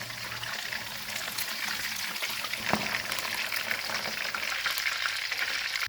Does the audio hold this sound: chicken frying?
yes